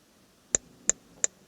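A faulty Dometic RV refrigerator running on propane gives three sharp, evenly spaced ticks roughly a third of a second apart, faint against a quiet background hum.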